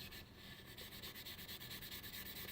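Sandpaper rubbing steadily over the surface of a turkey friction call to condition it, a close, continuous scratchy rasp with a repeating back-and-forth rhythm and no talk.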